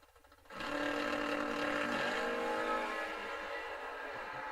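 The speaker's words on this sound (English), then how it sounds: "Doing some mean burnouts in the yellow 67 Camaro on a 620." A yellow 1967 Camaro does a burnout at a drag racing event, its engine jumping from idle into a sustained loud roar with tire squeal, steady for several seconds before easing slightly.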